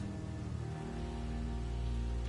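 Steady rain hiss from the video game Vampyr, a dense continuous wash with low rumbling tones underneath, even and unbroken throughout with no talking.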